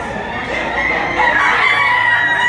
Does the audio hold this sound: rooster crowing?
yes